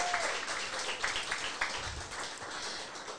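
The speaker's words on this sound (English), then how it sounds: "another round of applause" A crowd applauds at a 2024 campaign kick-off rally: a sustained wash of clapping heard from some distance, fairly soft and even, with a brief tonal whistle at the start.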